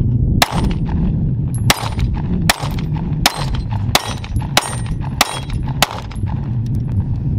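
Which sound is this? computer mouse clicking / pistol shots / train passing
pistol shots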